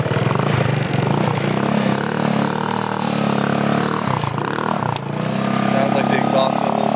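A 150cc stunt scooter engine idles with a rough, sputtering rattle, loud and close, dipping briefly before picking back up; the exhaust is slightly loose.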